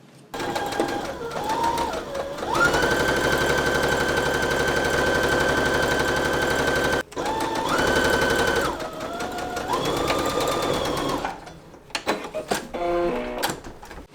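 A sewing machine stitches along the side edge and pointed bottom of tie pieces, running in two long steady bursts with a brief stop between, its motor whirring loud and close, then slowing into scattered stitches.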